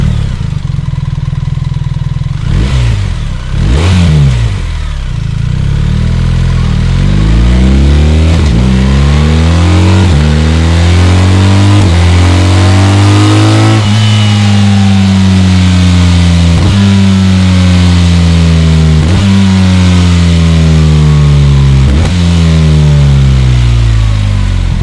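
A 2024 BMW R 1300 GS motorcycle with its 1,300 cc, 145 hp engine, heard very loud and close: a few sharp throttle blips, then repeated rising revs through climbing gears, each pull climbing in pitch before dropping off, with no talking.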